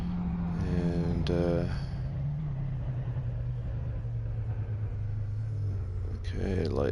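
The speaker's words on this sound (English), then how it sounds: "This car sounds beautiful." Deep, steady engine rumble of a race car in the Assetto Corsa driving game, a constant low drone holding throughout, with short vocal sounds briefly rising over it near the start and end.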